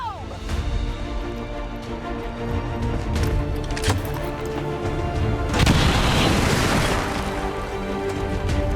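Grenade blast in the video game XCOM 2, a loud broadband boom swelling midway through a busy, rumbling battle soundscape with scattered thuds and impacts, with someone talking over the action.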